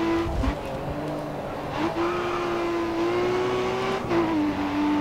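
A race car in Grid Autosport roars at full throttle while overtaking AI opponents on a circuit, its engine holding a steady high whine with brief shifts in pitch.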